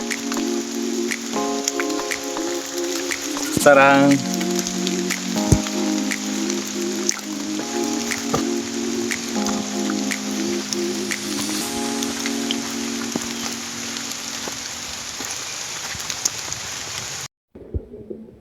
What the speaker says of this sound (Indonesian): Ini juga ditambah lagi hujan, jadi bisa terpeleset,